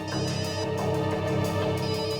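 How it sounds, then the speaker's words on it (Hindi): A phone rings with a bright, melodic ringtone, one continuous ringing passage heard up close with no talking over it. "ओह नो, श्रेया की माँ का फोन है।"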